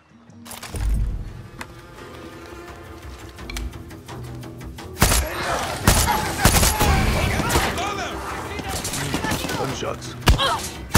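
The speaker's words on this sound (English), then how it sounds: "Gunshots." Rapid bursts of gunfire crackle over a busy soundscape in the video game Far Cry 6, with sharp repeated shots growing denser and louder toward the end.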